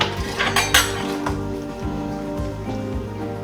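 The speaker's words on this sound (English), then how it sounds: "we're gonna add all of this into our pot" Drained hominy tumbles into a metal cooking pot with a brief rattling clatter at the start, then the pot clinks and the kernels patter softly as they settle.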